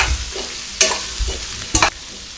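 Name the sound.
potato masala being stirred and sautéed in pan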